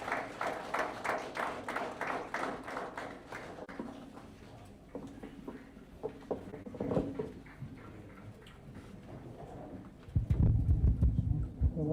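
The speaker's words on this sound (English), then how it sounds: "A round of applause, please." Guests at a formal diaspora event applaud as a High Commissioner is invited to give welcome remarks, crisp clapping that thins out midway, then a louder rumbling burst near the end.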